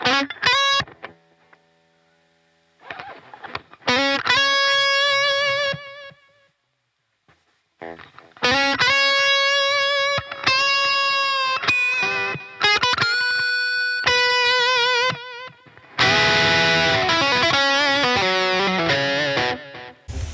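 Electric guitar lead lines with delay and the reverb turned off, played in an improvisation: sustained distorted notes and bends in several phrases separated by brief pauses, with repeats widening the tone, loud and close.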